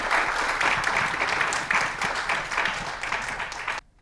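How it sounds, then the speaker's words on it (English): A forum audience applauds panelists steadily for several seconds, a dense wash of clapping that cuts off abruptly at the end. "please give me a round of applause to the panelists."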